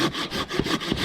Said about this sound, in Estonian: Uus tööriist, mis ma eile käisin, ostsin ka rautast. Niisugune Fiskarsi saag.